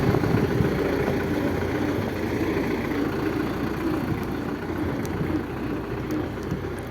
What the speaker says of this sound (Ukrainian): Тракторець досить тихенько їде